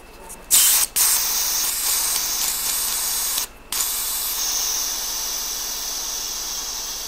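Air hisses strongly into a self-inflating camp pillow through its opened screw valve, a loud, close rush that starts abruptly, cuts out briefly twice, then settles into a steady hiss.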